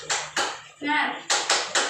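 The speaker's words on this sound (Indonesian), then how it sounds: "Ice breakingnya yaitu tepuk semangat." Hands clap out the 'tepuk semangat' chant in a second-grade classroom: two crisp claps, a short chanted voice, then three more quick claps close by.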